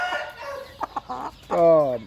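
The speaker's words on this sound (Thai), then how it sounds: "เป็นไก่ที่ขยันหัวไวนะครับ" A Burmese fighting hen clucks close by, a few short clucks and then a longer drawn-out cackle, loud and clear.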